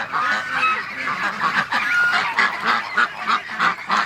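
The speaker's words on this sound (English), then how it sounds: "All right, ducks." Ducks at a water and feed station honk and quack in repeated, rhythmic bursts, fairly close and loud, a steady chorus of calls with no talking.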